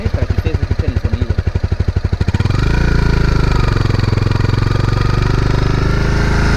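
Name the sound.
Honda CBR250R motorcycle engine revving at medium revs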